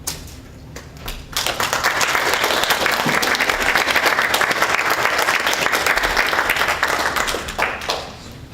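At a college Constitution Day event, an audience breaks into applause after a quiet opening, a dense, steady wash of clapping that holds strongly and then tapers off near the end.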